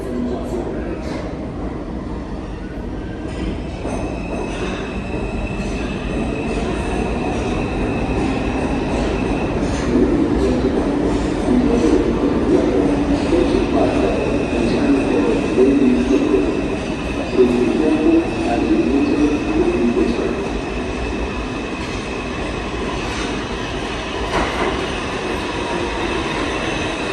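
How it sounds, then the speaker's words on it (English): A New York City Subway 4 express train arrives at Bowling Green station, a steady loud rumble of rail cars with wheel squeal and faint clatter building over the platform, no talking. "An Uptown Express 4 train to Burnside Avenue. Approaching the station, please stand away from the platform edge."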